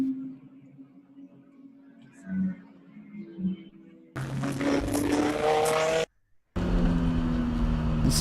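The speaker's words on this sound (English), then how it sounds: "looking at the front straight cars coming at us towards the flag stand" In a 24-hour ChumpCar endurance race, cars come down the front straight toward the flag stand, heard first as faint distant engine noise with voices, then a loud close roar of a car passing.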